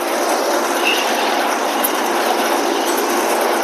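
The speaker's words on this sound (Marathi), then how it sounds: "वल्ल सोयाबीन काढणं चालू आहे." A multi-crop threshing machine working through a soybean harvest, with an elevator lifting the grain into a trolley: a loud, dense, continuous mechanical roar and rattle that holds steady throughout, with no voices.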